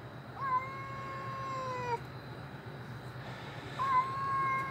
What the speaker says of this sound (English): A pretty cat.